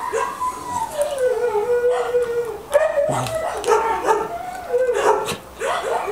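A small dog growls and howls in long, wavering, drawn-out cries that rise and fall across several seconds, fairly close and alone.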